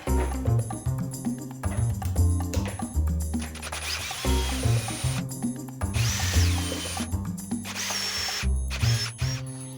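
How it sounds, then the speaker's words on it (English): A power drill with a step drill bit bores a 10mm hole during a camper van build, its motor whining loudly in repeated bursts with brief pauses and grinding bites into the material. "Great thing with these step drills is you know what size hole you're drilling down to."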